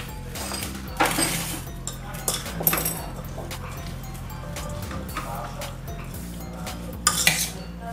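A utensil stirs spices into chickpeas in a pan, giving close scraping and intermittent clinks of metal against the pan, with speech running throughout.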